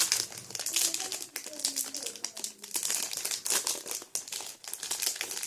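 A Rocco snack wrapper is torn open by hand, with loud, close crackling and crinkling in quick irregular bursts while people talk over it.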